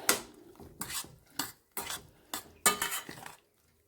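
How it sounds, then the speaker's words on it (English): Apples being stirred in a pot with a metal utensil, a series of about seven distinct scraping clinks against the pot in an uneven rhythm, close and clear, then silence. "Oh, I forgot to stir it."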